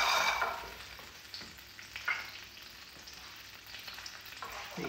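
Butter sizzles and crackles in a hot frying pan, a steady close hiss with small pops throughout, loudest at the start and slowly easing off.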